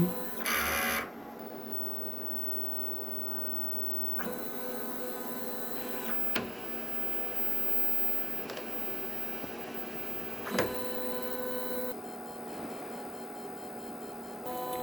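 An inkjet printer with an ink tank system runs a print head cleaning cycle, giving a steady mechanical hum with periodic whirring carriage movements and a few sharp clicks.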